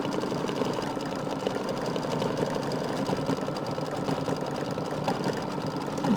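An embroidery machine sewing a decorative stitch, a steady rapid mechanical whir and clatter running unbroken and close throughout, with no talk.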